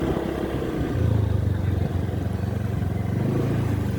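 A motorcycle idles and revs gently nearby while being parked at Taipa port, a low, steady engine rumble that lifts in pitch partway through and carries on with faint clatter behind it.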